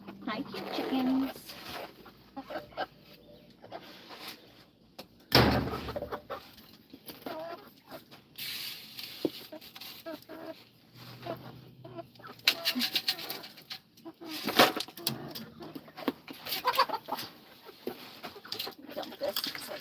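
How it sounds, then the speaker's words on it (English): Chickens cluck in a backyard garden in short, intermittent bursts, moderately close, with people talking between and over the calls. "Hi, cute chickens."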